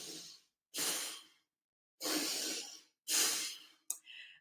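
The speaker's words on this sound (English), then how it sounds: "we will breathe out through the nose" Slow, audible breaths through the nose in a calm guided exercise, several long airy inhales and exhales separated by brief silences, close and soft.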